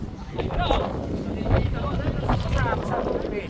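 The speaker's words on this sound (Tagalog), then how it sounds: "Lakas ng hangin." Strong wind buffets the microphone with a continuous low roar at a kite-flying gathering, and voices are heard faintly underneath.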